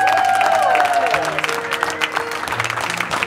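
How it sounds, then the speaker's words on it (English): Wedding guests applaud and cheer for the groom at a reception; loud, dense clapping carries through, with music tones sustained underneath and scattered cheers. "give him a big round of applause."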